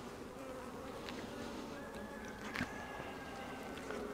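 Honey bees drone around an open beehive during a spring hive inspection, a faint, steady buzzing with a few brief louder passes of single bees close by.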